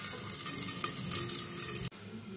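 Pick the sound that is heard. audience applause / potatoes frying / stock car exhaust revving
potatoes frying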